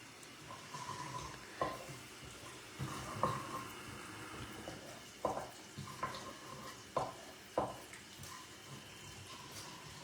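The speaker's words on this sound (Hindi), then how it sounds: "जैसे ही मेरा जीरा थोड़ा सा क्रैकल हो गया है" Cumin seeds crackle in hot Amul pure ghee as a soft, continuous sizzle broken by several sharp pops and stirring clicks at irregular intervals.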